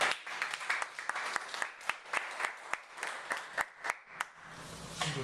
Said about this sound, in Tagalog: palakpakan muna natin sino.